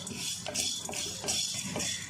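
A spoon scrapes and taps against a pan in a few quick, rhythmic strokes, stirring masala for prawn biryani, light and close, with a soft sizzle underneath.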